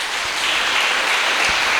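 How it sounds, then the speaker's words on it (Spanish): Dense applause from a church congregation during a Spanish-language Bible sermon, a steady broadband wash of many hands clapping together at even loudness throughout. "Le damos un fuerte aplauso al Señor"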